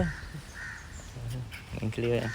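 A crow caws several times outdoors, harsh repeated calls standing out near the end, while people talk nearby.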